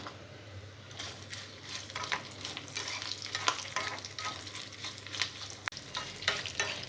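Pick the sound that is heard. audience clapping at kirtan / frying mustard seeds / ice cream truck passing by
frying mustard seeds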